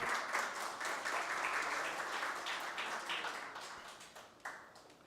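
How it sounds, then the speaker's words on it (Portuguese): Audience applause at a Portuguese-language diploma ceremony for the Luso-Brazilian Chamber of Commerce, a steady wash of many hands clapping that slowly thins and fades toward the end. "Uma salva de palmas"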